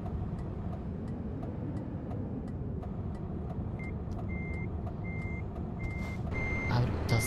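Repeated high electronic reversing beeps from a truck in the Trucks & Trailers driving game, evenly spaced and steady, sounding over a constant low engine rumble that swells slightly near the end.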